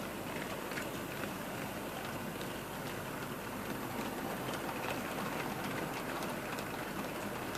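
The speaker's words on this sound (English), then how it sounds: "And now, lucky us, goods trains pass" A Hornby model goods train on a pre-grouping railway layout rolls past in a steady, continuous rumble with faint clicking, fairly quiet and unbroken throughout.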